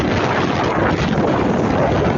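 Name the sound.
strong habagat monsoon wind at the sea in Batangas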